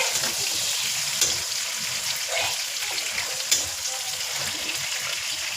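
Squid and tomatoes stirred in a frying pan, a steady close sizzle with a few soft scrapes and knocks from the utensil throughout.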